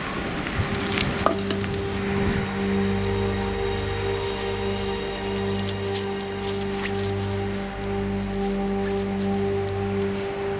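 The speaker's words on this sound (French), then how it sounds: "Il commence à pleuvoir en plus." Rain beginning to fall around an abandoned house, a fine scattered patter of drops over a steady low hum and tonal drone, with a sharp click near the start and no voices.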